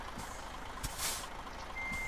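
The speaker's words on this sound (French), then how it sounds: "On recule. Bip bip bip bip bip." Video game truck engine rumble with a steady electronic reversing beep tone emerging near the end, plus a brief hiss like an air brake release.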